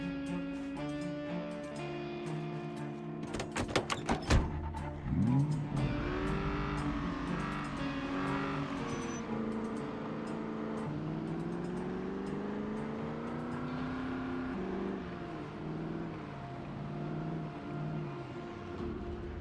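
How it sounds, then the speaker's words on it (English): A car driving in the zombie survival game Project Zomboid, engine droning and revving with shifting pitch through a steady run, with a few sharp clattering impacts early on. "We're gonna cruise up the road in a car."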